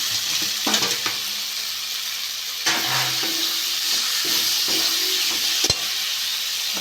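Steady sizzling of oil as potatoes are added to a well-fried spice masala gravy for aloo matar ghugni, with stirring, occasional clinks of a spoon on the pan and a sharp knock, with no talk.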